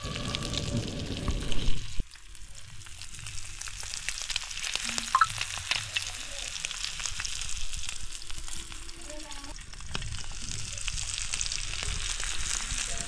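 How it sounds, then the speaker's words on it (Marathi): Mandeli fish frying crisp on an iron griddle over a wood-fired stove, a steady close sizzle and crackle running throughout, louder at first, with occasional faint voices in the background. "फायनली आता तव्यावरून हे पहिलीच बॅच म्हणू शकतो आपण मांदेली फ्रायची"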